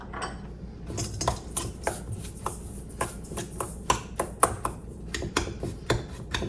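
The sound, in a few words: mixing brown sugar and ground cinnamon in a bowl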